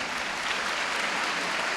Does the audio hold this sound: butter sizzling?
no